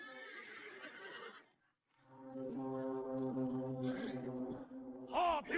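Cavalry horses neighing in a loud battle scene, with a short whinny first, then a long, sustained, strongly tonal neigh after a brief pause, ending in a sharp rising squeal.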